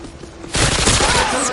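Automatic gunfire in the shooter game Modern Warfare 2: a quiet hum, then a sudden loud, sustained burst of rapid shots that runs to the end.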